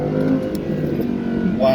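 An Audi R8 V10 plus accelerating hard under launch control, its engine a steady, loud, close drone with layered harmonics that climb slightly as speed builds; muffled voices sit under it.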